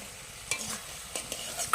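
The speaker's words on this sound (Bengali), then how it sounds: "এবার চিংড়ি মাছটা ততক্ষণই ভেজে নেবো যতক্ষণ চিংড়ি মাছটা ভাজা না হবে" Steady oily sizzle of raw shrimp frying in a pan, broken by a few sharp clinks and scrapes of stirring, close and fairly quiet.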